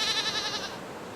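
A single drawn-out, wavering bleat from a goat, loud and close, trailing off into faint background noise.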